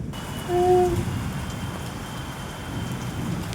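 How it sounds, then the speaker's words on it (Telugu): Steady rainfall hisses on surfaces throughout, with a brief faint tonal sound early on and no voices. "చాలా రోజుల తర్వాత ఈ వర్షాన్ని అయితే చూస్తున్నాము"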